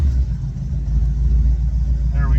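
The Ford 351 Windsor V8 in a classic catering truck runs with a loud, close, steady low rumble throughout, and a faint higher tone creeps in at the end.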